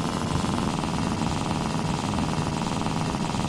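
A moped engine in The Long Drive driving game runs as a continuous, fairly loud buzzing drone with a steady rough rattle, holding even throughout without pauses or speech.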